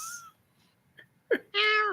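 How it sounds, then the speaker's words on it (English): A cat meows a few times through a screen's speaker. A short cry comes first, then a couple of louder, drawn-out meows, all heard fairly close in an otherwise quiet room. "I remember hearing a whole bunch of meowing on your screen"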